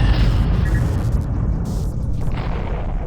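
A spacecraft explodes in the space combat game Freespace, a loud, sustained rumbling boom that fills the whole stretch with dense low roar and crackle.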